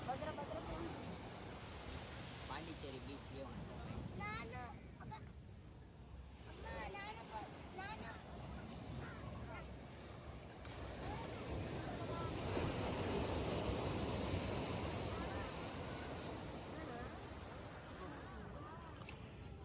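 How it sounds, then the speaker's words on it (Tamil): Surf washes steadily onto Pondicherry beach in India with a broad rushing roar, wind buffeting the microphone and faint voices underneath. "பாண்டிச்சேரி பீச்சுக்கு வந்துட்டோம் கைஸ்."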